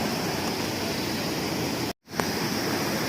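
Steady broadband roar of a waterfall at Lake Mist, loud and continuous, with a brief dropout near the middle before the rush resumes unchanged.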